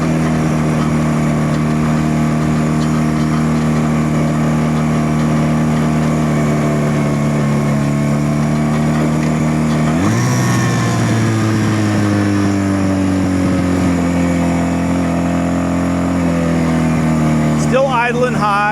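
A Honda CB160 Sport motorcycle's engine idles high and loud with a steady drone, then revs up sharply and holds a higher, wavering pitch before easing back.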